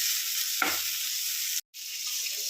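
Onions and tomatoes fry in a pan while a spoon stirs through them, giving a steady close sizzle with a soft scrape partway in and a brief silent gap.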